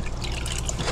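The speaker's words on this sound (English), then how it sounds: "Make sure you wash them first in the water solution, then you rinse them" Spatulas and scrapers are rinsed in water, giving a steady close trickle and splash of running liquid with no pauses.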